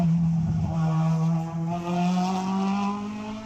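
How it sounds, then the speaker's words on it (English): A Hillman Imp race car at a hillclimb, engine note rising loud and near with a hard bump as it takes the inside curb of a corner, then pulling away. "I'm not sure if Grant had a touch with the barrier here, or if it was just a violent curb on the inside of the corner."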